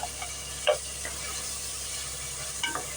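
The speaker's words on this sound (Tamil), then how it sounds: "பட்டை சோம்பு நல்லா இப்போ போடும்போதே வந்து உங்களுக்கு நல்ல மணமாக இருக்கும்" Cinnamon and fennel fry with ginger, garlic and dried chillies as the base for mutton biryani, giving a steady sizzle with a couple of louder stirring clatters.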